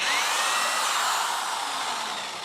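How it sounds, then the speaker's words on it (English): A steady, high-pitched whirring grind of a power drill boring into the burnt side of a piece of wood, loud and close, running continuously without pause. "if I drill it on the burnt side"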